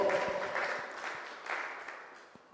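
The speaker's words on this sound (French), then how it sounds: "Come on, let's give the Lord a clap" A church congregation claps for the Lord with an applause of many hands, steady and fairly close, that gradually fades, with voices mixed in.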